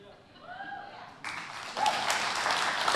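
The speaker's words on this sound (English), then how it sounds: "Some of you are clapping" Church congregation clapping during a sermon, starting as a thin patter after a voice and swelling into fuller, louder applause.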